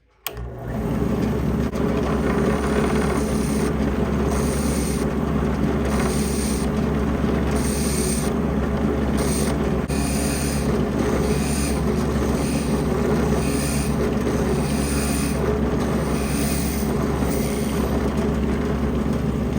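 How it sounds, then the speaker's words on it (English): A high-speed drill press drills a hole for an RC car light with a steady, continuous whirring hum for the whole stretch, close and loud, with no voices. "Let's drill a hole for my light."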